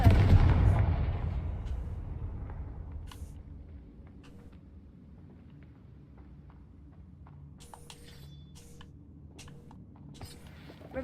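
In the Hogwarts Legacy video game, a Confringo spell blasts with a loud explosive burst at the start, then decays into a faint crackling tail and scattered small pops.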